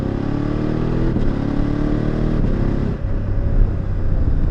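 A loud 2024 BMW F800 GS motorcycle engine idles and revs close by, a dense rumbling drone that shifts in pitch partway through.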